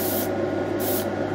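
Spray paint hissing steadily onto an HO scale model building, a close continuous aerosol spray.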